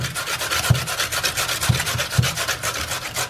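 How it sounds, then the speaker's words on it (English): Raw potatoes rubbed over a Rösti grater make rhythmic rasping strokes, repeated several times a second with a few heavier knocks, close and continuous. "Now we grate them on the Rösti grater."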